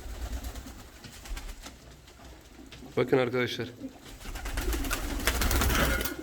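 Pigeons coo in soft, throaty bursts around a block of rock salt they are eating from, with someone speaking briefly nearby and faint rustling in the background.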